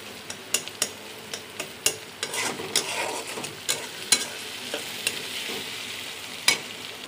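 Onions frying in a pan until lightly browned, a soft continuous sizzle broken by sharp, spaced knocks and scrapes of a utensil against the pan, close by with no talking.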